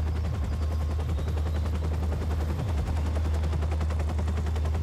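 A helicopter's steady low rotor drone in the video game Watch Dogs, with rapid machine-gun fire crackling continuously over it, loud and dense throughout.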